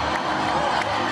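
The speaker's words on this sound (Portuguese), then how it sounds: "Com o Maracanã lotado, a torcida do Flamengo fez festa para Arrascaeta e Gabigol" A packed Maracanã stadium crowd of Flamengo supporters roars and cheers in a brief, steady wash of massed voices, loud and close with no distinct individual sounds.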